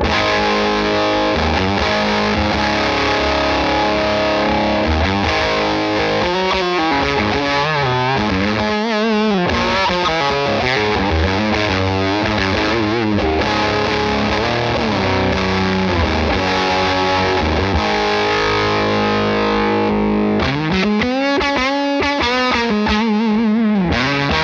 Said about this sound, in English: silicon is more, lends itself more to that kind of Velcro fuzz, gated fuzz kind of thing